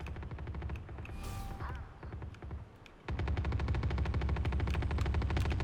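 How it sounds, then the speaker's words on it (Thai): Automatic gunfire rattles in a Valorant match during a random-weapon mode, with bursts of rapid shots that swell into a dense, continuous volley in the second half. "โอ้ยิงกันใหญ่เลย"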